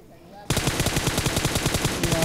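Rapid automatic gunfire in the mobile battle royale game BGMI, a fast steady burst of evenly spaced shots that starts abruptly after a quiet moment and runs loud and close without a break.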